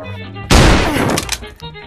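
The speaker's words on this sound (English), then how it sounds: "Oh, like a shotgun." A loud shotgun blast in a VR shooting game set in a bar, sudden and broadband with a sharp attack and a decaying rumble, followed by quieter clattering.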